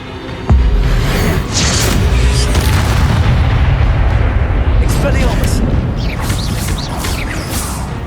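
A booming spell-cast blast from the video game Hogwarts Legacy, loud and sustained with rumbling low end and a dense rushing tail that fills the whole stretch, under excited game action.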